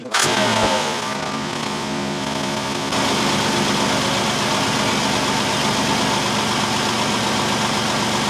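A 2006 Chrysler Town and Country engine idles steadily at close range after a brief start-up burst, holding a constant mid-pitched hum with no speech over it.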